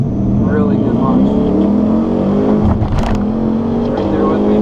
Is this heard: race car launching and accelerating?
yes